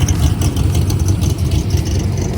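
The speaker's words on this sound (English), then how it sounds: "We've got some of the race cars stuck in a traffic jam." Race car engines idle in a traffic jam during drag week, a steady loud low rumble that holds close and continuous without a break.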